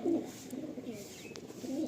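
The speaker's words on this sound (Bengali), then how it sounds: "এখানে মোটামুটি 30 পিস মতো পায়রা এই 4টে সেকশনে রয়েছে" Pigeons coo in low, soft murmuring calls inside a loft holding giribaj and madrasi pigeons for sale, steady and fairly close with a faint background hiss.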